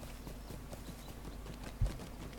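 Steady clip-clopping of a pony's hooves in the online game Lord of the Rings Online, a quiet rhythmic walk over low background sound with one heavier thud partway through.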